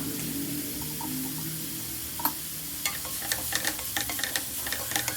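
Big and small onions fry in oil in a pan for a fish puttu recipe, giving a soft steady sizzle, with a spoon clinking and scraping in quickening strokes in the second half.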